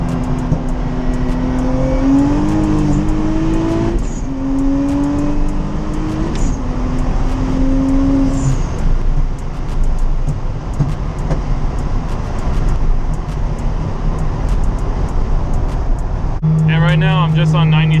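Nissan 370Z with a swapped VR30 3.0-litre twin-turbo engine on 93 octane accelerating hard, its loud exhaust droning and rising in pitch through gears, with a person talking over it throughout.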